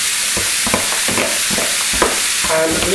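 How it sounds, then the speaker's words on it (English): Minced meat for a cottage pie sizzles in a very hot pan, giving a loud, continuous hiss and crackle broken by a few soft thuds and scrapes. No one speaks. "So get this mince into a really nice hot pan."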